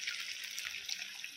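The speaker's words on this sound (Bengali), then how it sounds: "আর এখানে দিয়ে দিচ্ছি 1 বাটি নারকেলের দুধ।" Coconut milk pours from a bowl into a prawn malai curry with a brief, soft liquid splashing and trickling, faint and close, with no voices.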